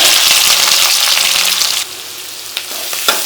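Chopped shallots hitting hot groundnut oil that already holds fried dals, giving a loud, dense sizzle that drops suddenly to a softer frying crackle, with a couple of brief stirring clinks near the end.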